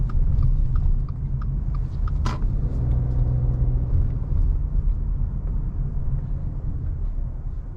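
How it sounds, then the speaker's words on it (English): A 2021 Subaru Crosstrek Limited pulls away from a stop and accelerates up a hill, its engine a loud steady rumble that swells, with a sharp knock near the start. "we'll give it one more acceleration up the hill"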